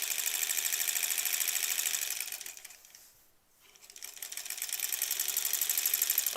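A sewing machine joins improv quilt pieces in two steady rapid runs, loud and close, with a brief stop in the middle as it slows and starts again.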